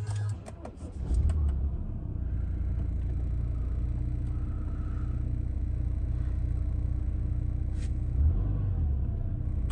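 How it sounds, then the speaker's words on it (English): A 2009 Audi A6 Avant Le Mans 2.0 TDI starts with a brief cranking churn, then settles into a steady low diesel idle close by, with a few faint clicks and no talk. "I'm just going to start the car now to show you there's no warning lights."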